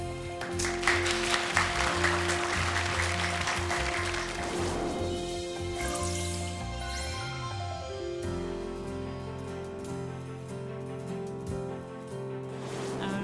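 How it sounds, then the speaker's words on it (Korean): Audience in a concert-style lecture hall claps warmly to welcome a speaker, a dense burst of applause over the first few seconds that fades as steady tonal music takes over. "여러분의 따뜻한 박수로 맞아주세요"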